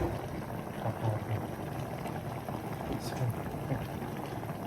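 Paksiw tilapia with pork simmering in broth, a soft, steady bubbling under faint background voices, fairly quiet throughout.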